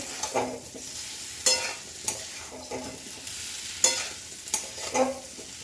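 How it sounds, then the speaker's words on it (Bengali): Chunks of elephant foot yam stirred into hot oil in a pan, giving a steady close sizzle broken by sharp clinks and scrapes of the spatula at irregular intervals, with no voices. "তেল ছেড়ে দিয়েছে এবার আমি ওলটা দিয়ে দিচ্ছি"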